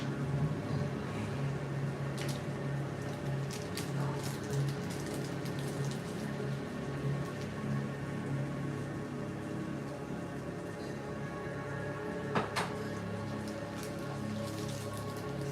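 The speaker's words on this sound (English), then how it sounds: "And it's pouring rain here in Fort Lauderdale." Heavy pouring rain in Fort Lauderdale, a steady dense hiss of drops on surfaces that holds close and even throughout, with a few brief louder splashes and no talk.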